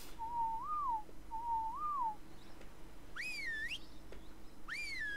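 Distant whistles in a video game: two soft, level-then-wavering whistled notes, followed by higher sliding calls further off, heard alone over a quiet background.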